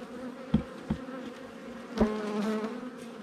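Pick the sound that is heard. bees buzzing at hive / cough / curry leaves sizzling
bees buzzing at hive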